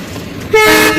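A Samastipur-based WDM 3D diesel locomotive sounds one short, sharp horn toot that cuts in loudly halfway through, over a low background rumble.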